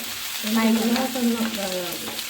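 Onion and curry leaves fry in oil for a mushroom curry, a soft, even sizzle with a wavering humming tone over it through the middle.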